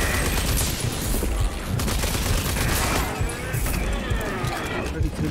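Weapons fire in Rage 2 as a player shoots at mutants: rapid, loud bursts of shots and impacts run throughout, with players talking over the action.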